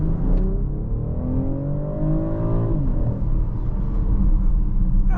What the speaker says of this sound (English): we're gonna do a full acceleration